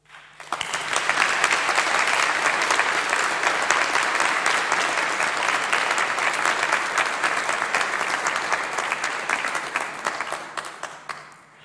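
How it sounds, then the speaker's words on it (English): Graduates at a university summer congregation ceremony break into sustained, dense applause that fills the hall for roughly eleven seconds, then tapers off at the close. "please give a round of applause and a huge cheer to say thank you to the friends, family and supporters who have made today possible"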